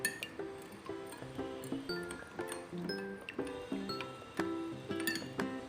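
Powdered sugar being stirred into a solution in a glass: a steady run of close, quiet clinks as the spoon taps the sides in a regular rhythm.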